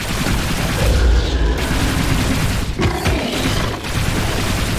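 Grenades explode in the game Project Warlock 2, loud dense booms and rumbling blasts crowding together with rattling gunfire, heavy and continuous over several seconds.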